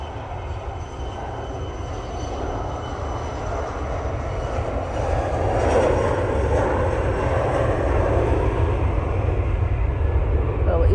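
A Loganair Embraer ERJ145 regional jet at Manchester Airport on a windy day produces a steady, broad engine roar that swells gradually over about eleven seconds, heard from a moderate distance with wind noise throughout.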